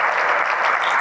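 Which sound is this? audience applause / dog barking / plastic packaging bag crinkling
audience applause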